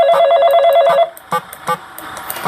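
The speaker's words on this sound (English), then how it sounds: "there's a phone call as well" Telephone ringing in the Five Nights at Smudgers 2 game, a loud warbling electronic ring for about a second, followed by quieter clicks and knocks.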